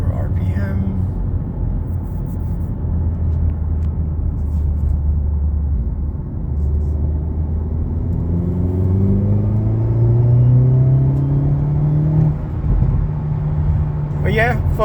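Engine of a 2025 Hyundai Elantra N easing down to low RPM, a loud steady cabin rumble with slowly rising engine tones late on, and a voice speaking over it.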